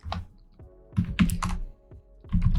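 Keys clack on a computer keyboard in short irregular bursts of typing, close and crisp, with brief pauses between clusters of strokes.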